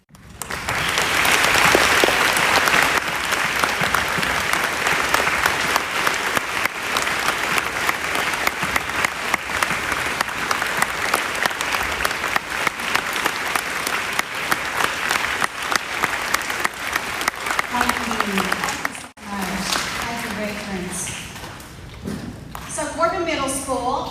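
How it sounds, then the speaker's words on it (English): Sustained applause from a school gym audience honoring standing veterans at a middle school Veterans Day program, a long steady wash of clapping that breaks off near the end as a voice speaks over it. "stand so we can honor them with another round of applause, because it is well deserved"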